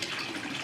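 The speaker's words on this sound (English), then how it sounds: "we're now going to run some water in a hose to see if the water goes down there" Water pours steadily through a hose on a Portuguese homestead farm, a continuous close rushing hiss with no talk over it.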